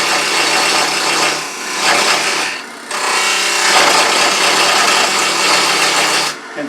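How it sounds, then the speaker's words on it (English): A parting tool cuts into red oak spinning on a wood lathe, giving a loud, steady rasping hiss that dips briefly twice before resuming, close up with no talking. "you want to go directly into the wood. Then after you slice through the fibers, then you drop and take a peeling cut"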